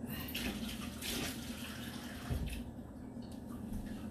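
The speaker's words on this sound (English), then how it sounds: "Also want to add a little cup of water" Water is poured from a cup into a baking dish, a soft, continuous splashing trickle under a faint room hum.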